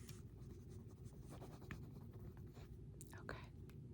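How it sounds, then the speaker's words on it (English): A pen scratches a name onto paper, close and quiet, in short strokes over a low steady background hiss, with soft whispered speech mixed in. "let me just write your name down really quick."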